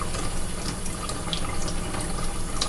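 Tap water runs steadily as mushrooms are rinsed in a sink, a close, continuous splashing stream with small irregular spatters and no talking.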